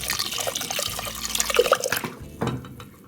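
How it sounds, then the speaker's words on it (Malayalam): Water is poured into a pot holding watermelon rind curry with turmeric and salt for cooking, splashing and trickling unevenly for a few seconds before tapering off into a last brief slosh. "ഇനി ഇത് രണ്ടും കൂടെ വേവാൻ വേണ്ട വെള്ളം"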